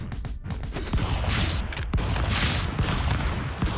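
Shotgun blasts ring out in the Stick Fight video game, several sharp bursts in quick succession among busy, chaotic game noise.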